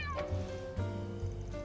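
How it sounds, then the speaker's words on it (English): A small gray cat meows in the back alleys of Trails Through Daybreak II, several short, fairly close tonal meows in a row with a low game hum underneath. "Is this a little gray cat, the same one from Old Town?"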